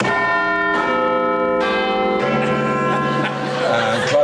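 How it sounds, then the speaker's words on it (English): Quiz show buzzer bells: several ringing bell tones strike one after another, each sustaining and overlapping, with a bright layered chime sound. "Let's have a round on the buzzers and bells."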